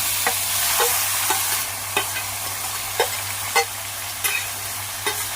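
Chicken pieces go into a hot pan of frying onions with fresh coriander and green chilli, giving a steady close sizzle broken by regular scraping stirs.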